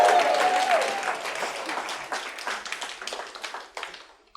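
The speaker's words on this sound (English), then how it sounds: "Let's give the AV team a big round of applause" Seminar audience claps for the AV team, a full round of applause that starts thick and steady, then thins into scattered individual claps before stopping.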